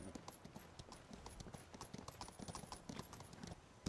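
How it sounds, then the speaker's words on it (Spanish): Horse hooves gallop in a fast, steady clip-clop rhythm in Skyrim with the Requiem mod, continuous and fairly faint, with no talk over it. "no me ha dado la opción de montar el caballo sin robar, así que yo le he dado y para adelante"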